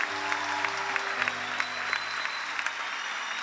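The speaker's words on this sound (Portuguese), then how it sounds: "eu queria que você recebesse a serva de Deus com uma linda e calorosa salva de palmas" A church congregation at a conference service claps to welcome a woman pastor to the stage, a continuous bright wash of applause with steady sustained tones from an instrument playing underneath.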